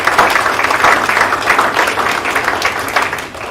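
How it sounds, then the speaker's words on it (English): Wedding guests applaud the wedding party at a reception, a loud, sustained wash of many hands clapping that tapers slightly near the end. "A round of applause for our wedding party"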